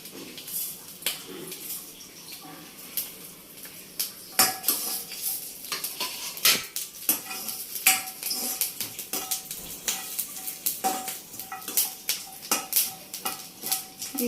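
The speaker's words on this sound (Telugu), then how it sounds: "అలాగే చింతపండు కూడా వేసి జీలకర్ర వేసి కూడా కొంచెం లైట్గా వేయించుకుందాం" Garlic, tamarind and cumin stir-fry in a pan with a close, crackling sizzle under frequent rhythmic clinks and scrapes of a metal spoon against the pan.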